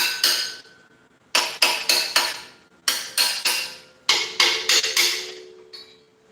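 A hammer strikes a welded metal bracket in a workshop, ringing clanks in quick bursts of three to four blows separated by short pauses, loud and close with no talking.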